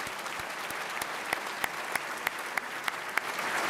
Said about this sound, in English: And have a round of applause for all of